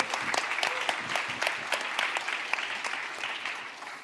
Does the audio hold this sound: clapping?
yes